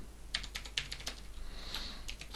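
Close, crisp keystrokes on a computer keyboard as code is typed, irregular bursts of clicks with a brief pause midway over a low steady hum.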